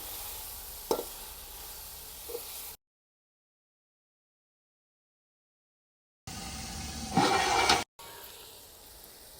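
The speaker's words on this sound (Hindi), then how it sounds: "और इसको भी साथ में ना फ्राई कर देंगे।" Chicken frying in a pan with ginger garlic paste added, a steady sizzling hiss with a few stirring scrapes, broken by a gap of silence before a louder burst of sizzle and stirring resumes.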